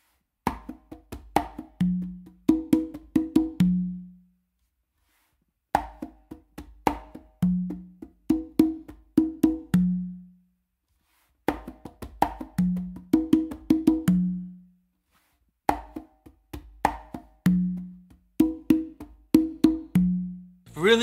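A full a caballo galloping variation played on congas, repeated in four busy phrases of rapid slaps, muffled tones and resonant open notes, each separated by a brief gap.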